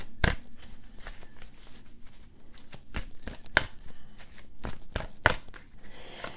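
Tarot cards being shuffled by hand, repeated sharp riffling slaps and soft sliding in irregular bursts, close and moderately loud, without talk.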